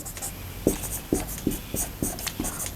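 Chalk or marker writing math on a board during a Class 12 integration lesson, heard as a series of about six short, distinct tapping strokes spaced roughly half a second apart, close and fairly clear over a quiet room.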